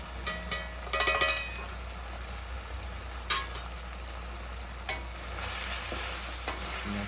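Cumin and chilli powder fry in a pan for spicy chicken sukka, a steady sizzle broken by loud scraping stirs and a few clinks of the spoon against the pan.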